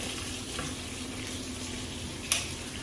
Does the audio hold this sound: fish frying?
yes